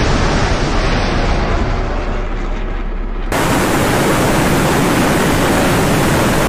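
SA-15 Tor surface-to-air missile launch in DCS World, a loud sustained roaring rush of broadband noise that jumps abruptly louder midway and holds steady to the end.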